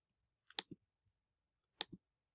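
A computer mouse gives two crisp right-click sounds, each a quick press-and-release double tick, spaced about a second apart, close and quiet with no voices.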